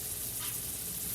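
Onions frying in a pan give a steady, close sizzle for a moment, with no talking.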